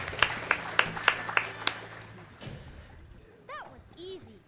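A handful of sharp, evenly spaced claps from the audience at a Sonic Adventure 2: Battle speedrun at the SGDQ 2016 marathon, fading out before voices and game sounds take over.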